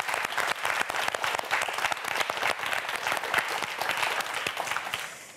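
Brisk applause from a studio audience on a TV quiz show before a student's second round, with many distinct claps forming a lively, moderately loud burst that tapers slightly.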